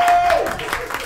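Applause from a crowd at an open-mic comedy night in a speakeasy bar, a steady dense clapping wash that stays loud through the second while a voice talks over it.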